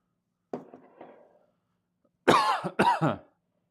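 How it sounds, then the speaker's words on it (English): A faint cough, then after a pause two louder, harsh coughs in close succession, near and otherwise quiet. "Cough my ass off on the thing."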